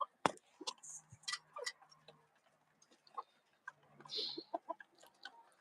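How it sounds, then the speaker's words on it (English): Free-ranging backyard chickens cluck near a shed outdoors: scattered short clucks and ticking calls come at an irregular pace, fairly close but quiet, with pauses between them. "Chickens are getting their last little bit of free ranging in."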